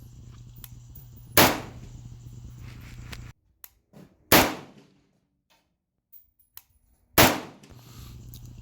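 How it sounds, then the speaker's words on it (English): Three loud, sharp rifle shots from an M90 fitted with a Monstrum Blackbird 3x scope, firing low-quality ammunition on its first gas setting, ring out a few seconds apart outdoors, each with a short echoing tail and quiet gaps between them. "right now I'm shooting on the #1 gas setting"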